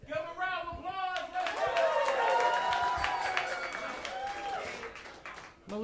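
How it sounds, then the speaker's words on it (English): A podcast audience breaks into a round of applause, a dense wash of clapping that swells and holds for several seconds with voices mixed in. "Give a round of applause."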